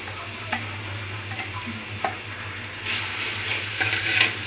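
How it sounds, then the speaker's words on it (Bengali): Spices with ginger-garlic paste fry in a pan for a Bangladeshi pangas fish dopiaza while a utensil stirs them. A continuous close sizzle runs throughout, with scraping stirs and occasional clicks, and no one speaks. "দেখেন এরকম করে আমি মশলাটা একটু কষিয়ে নিব।"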